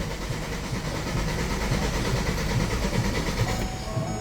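A 2014 Hyundai Santa Fe with a push-button start and a check-engine light cranks steadily without catching, a continuous churning starter-and-engine drone held at an even level for about four seconds, close by and with no talking.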